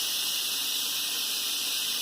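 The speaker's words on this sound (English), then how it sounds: "Release the steam." Steam hisses steadily and loudly from the release valve of an Instant Pot pressure cooker after cooking chicken and potatoes, a continuous bright rush with no pauses.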